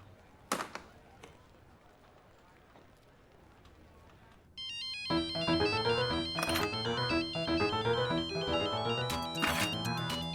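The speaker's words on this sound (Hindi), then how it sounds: "राज का फोन" A phone rings loudly in a household scene, its bright, repeating electronic ringtone starting midway after a quieter stretch with a few knocks and thuds.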